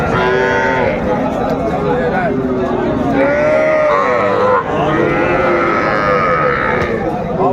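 Young bulls and heifer calves moo at a busy cattle market in Dinajpur, several loud calls rising over a constant crowd din with people talking nearby.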